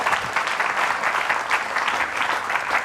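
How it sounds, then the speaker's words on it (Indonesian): Studio audience applauding for guest Dinar Candy on a ruqyah talk show, a steady dense wash of clapping that holds at an even level through the whole stretch with no voices over it. "Tepuk tangan buat Dinar, Bapak Ibu."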